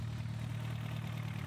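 A Dodge Shadow engine with a 3-inch exhaust idles with a deep, steady exhaust rumble, a low throaty drone that holds constant throughout.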